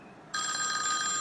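Telephone in a horror movie scene, its bell suddenly bursting into a loud, bright continuous ring after a brief quiet moment, alone without talking.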